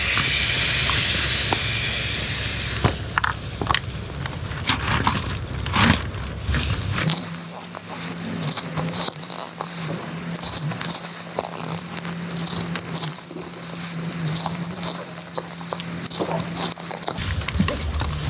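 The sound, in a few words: squeezing air from an inflation bag into an Alpackaraft Mage packraft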